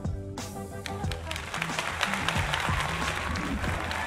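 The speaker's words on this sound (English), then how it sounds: "You specifically applaud me." Audience applause in a crowded room at a game demo day event, steady dense clapping that builds quickly and holds loud throughout, with a voice faintly present underneath at the start.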